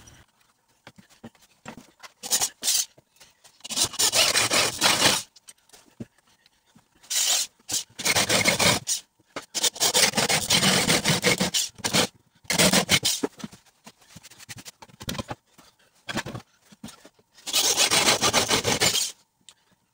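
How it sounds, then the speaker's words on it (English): A jigsaw cuts wood for a digital scale base, giving loud rasping saw bursts in several separate passes with short pauses between them. The sawing is close and no one speaks. "wood for digital scale base using jigsaw"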